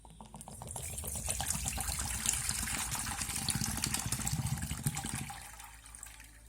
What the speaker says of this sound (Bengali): এবার এই জলটাকে একটা পাত্রে ঢেলে নেব।